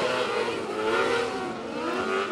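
Power 600 micro sprint race cars roar around a dirt speedway, engines snarling steadily and loudly with shifting rev pitch and no pauses.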